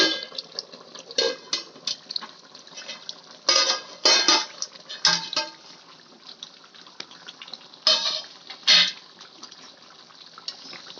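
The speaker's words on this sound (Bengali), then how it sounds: "আমি ঢাকনাটা তুলে দেখে নেব।" A lid lifted from a pot of simmering chicken curry, with a series of clattering metallic clanks and scrapes in bursts over a faint bubbling background.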